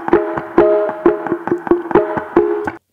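Palm-muted electric guitar through a new tone chain in Ableton, chugging out a tight rhythmic pattern of short, punchy, evenly spaced muted notes, loud and dry, with no talking.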